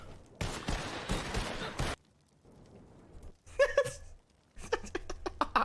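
Close gunfire in a role-play video game, with a dense volley of rapid shots, a pause, then a second cluster of sharp, separate cracks, loud against a quiet background and carrying no speech.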